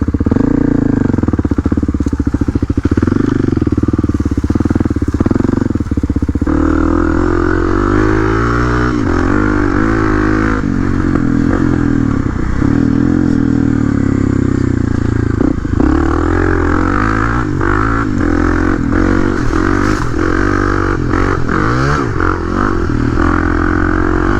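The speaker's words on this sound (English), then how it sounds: "Uh-oh, we got Tyler on the new KTM. Keep calling it 300, it's 250." A KTM 250 XC two-stroke dirt bike rides a woods track, its engine loud and close throughout as it revs up and down through gear changes, with occasional clattering from the terrain.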